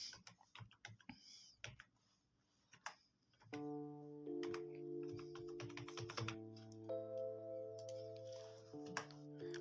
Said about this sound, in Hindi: हमने जो पासवर्ड सेट किया हुआ था वही दोबारा लिखते हैं।